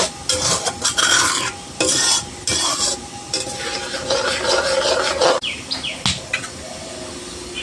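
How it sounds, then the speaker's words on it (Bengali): Spice paste sautéing in a pan with yogurt stirred in for a Bengali vegetarian doi potol (pointed gourd in yogurt), giving a loud, steady sizzle broken by close scraping stirs, with faint bird chirps in the background. "এখন আমি মশলাটা কষিয়ে এর মধ্যে দইটা ফাটিয়ে দিয়ে দেবো।"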